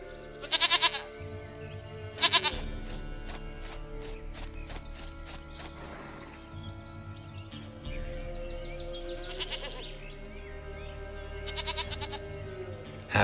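A goat in The Witcher 3 gives several short, loud, wavering bleats in bursts, with gentle background music and soft ambient sound between the calls.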